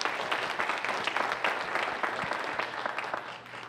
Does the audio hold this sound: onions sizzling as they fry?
no